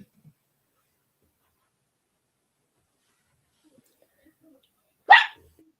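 A single sharp dog bark rings out near the end, loud and close, after several seconds of near silence in a home beading workspace.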